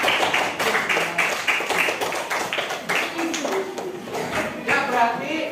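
Classroom applause for a student group that just finished presenting, a few seconds of scattered, uneven hand clapping in an Indonesian school room, with voices chattering over it.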